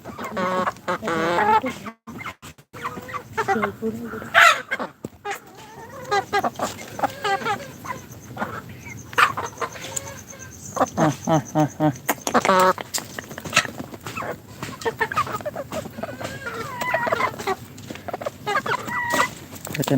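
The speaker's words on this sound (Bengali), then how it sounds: "আমার খামারে অনেক মুরগি রয়েছে" Chickens and roosters on a Pakistani poultry farm cluck and call repeatedly in bursts across the whole stretch, fairly close and busy, with a voice talking at times among them.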